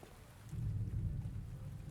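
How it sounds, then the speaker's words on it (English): Steady rain patters with a low distant rumble of thunder swelling midway, quiet and ambient in a potion-shelving puzzle game. "All these ambient sounds out there with the rain and everything."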